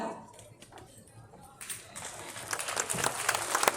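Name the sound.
audience applause for prize winner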